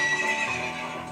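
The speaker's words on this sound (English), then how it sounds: "I like to put my horse back in the stable." A horse neighs in the Nintendo 64 game Zelda: Ocarina of Time, one short bright whinny with faint clip-clop hooves, clear and alone with no voices.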